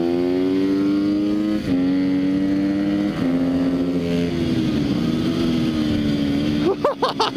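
A Sherco 300 SEF-R dirt bike engine revs hard through tight corners, its pitch rising and dipping as the throttle opens and eases, loud and close, ending in a sharp burst of revs.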